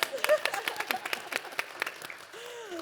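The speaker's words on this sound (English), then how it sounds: "Laura Vitek, yes, you can clap" Light applause from a small panel-discussion audience, scattered claps in an uneven rhythm that thin out and fade near the end.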